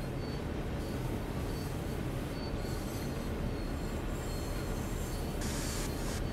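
Train emergency braking in Train Sim World 2 on the Clinchfield Railroad, a constant heavy rumble of rail wagons with a faint wheel squeal and a brief brighter hiss near the end, dense and steady.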